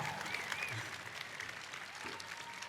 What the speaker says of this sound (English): Mr. President, you're getting a huge round of applause right now.